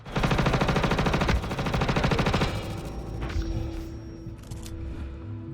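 Automatic gunfire in the video game Star Citizen, a loud rapid burst of rattling shots for a couple of seconds followed by rumbling echoes, beeps and lighter impacts.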